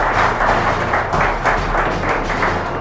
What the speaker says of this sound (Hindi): एक बार जोरदार तालियां डॉक्टर कमलेश प्रताप।